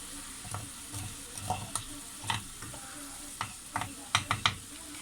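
Menemen cooking in a pan with peppers and tomatoes, a soft steady sizzle under repeated scraping and stirring clicks of a utensil, close and fairly quiet, no talking.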